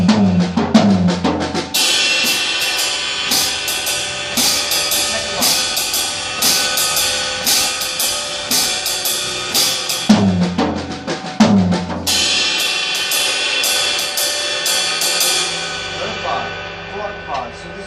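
A drum kit plays a reading exercise, keeping steady time with busy cymbals before breaking into tom-heavy fills, around 10 and 12 seconds. The playing is loud and close, with no one talking.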